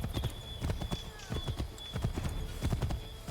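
Horse hooves clip-clopping in Assassin's Creed 3, a quick, regular beat of close hoof strikes over a faint tone, with low game speech underneath.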